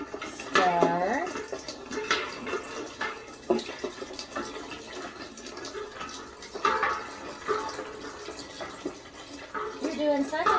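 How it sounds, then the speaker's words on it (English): Hot water splashes and trickles into a metal pot during pressure canning preparation, with scraping stirring and clinks of utensil against the pot, intermittent and close, while people talk over it. "I will help start pouring some hot water in"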